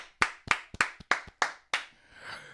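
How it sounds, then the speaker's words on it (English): Audience members at a stand-up comedy morning show clap in a short, sparse burst, about seven distinct sharp claps spaced unevenly, close and crisp, trailing off into quiet room noise. "Let's clap."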